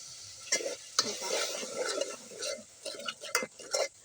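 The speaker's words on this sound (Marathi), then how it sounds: "हे खोबरं आपल्याला थोडस असं तेलामध्ये परतून घ्यायचं" Grated coconut sizzles softly in oil and a little ghee in a pan for a village-style mutton curry cooked over a wood-fired stove, with irregular scraping and stirring strokes over the frying.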